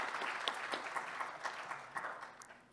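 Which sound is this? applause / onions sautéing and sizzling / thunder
applause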